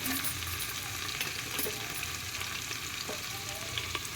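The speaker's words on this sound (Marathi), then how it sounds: "एक मिनट हलवते गाजर" Carrots sauté in a pan with a steady, dense sizzle and faint stirring scrapes, close and continuous throughout, with no voices over it.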